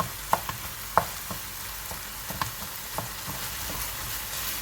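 Onions sautéing with spices in a pan give a low, continuous sizzle, punctuated by sharp clinks and scrapes of a utensil stirring, several sharper knocks early on, quiet and close with no speech.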